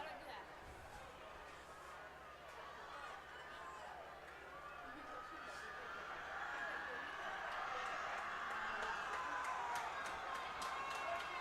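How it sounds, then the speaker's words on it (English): A Norse home crowd at a high school football game against Lee's Summit North, a broad roar of cheering and yelling that swells over several seconds, heard from a distance, with a faint commentator voice. "Norse crowd really getting into it here."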